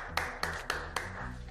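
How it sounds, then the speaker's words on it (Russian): A few people clap in slow, spaced rhythm, four sharp distinct claps about a quarter second apart, fairly quiet, with a low tonal background beneath. "Аплодисменты."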